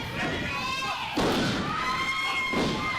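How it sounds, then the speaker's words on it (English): A wrestling drop kick lands in the ring during a six-man tag match, giving a heavy thud and slam against constant crowd noise, with a second impact following about a second later and commentary running over it. "Big drop kick to Bazooka Joe"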